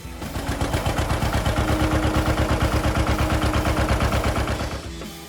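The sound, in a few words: John Deere 520 two-cylinder gasoline tractor engine running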